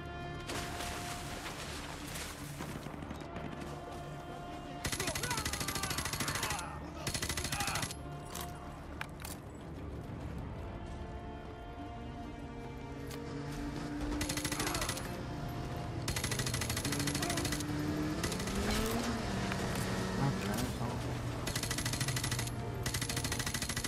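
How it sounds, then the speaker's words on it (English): Gunfire in a Call of Duty Modern Warfare 2 campaign battle, with bursts of machine-gun and rifle fire in a busy, loud mix of shots, crashes and game noise, and a voice talking now and then. "What are they shooting me at?"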